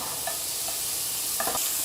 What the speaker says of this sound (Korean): 뜨거울 때 얼른 볶아요.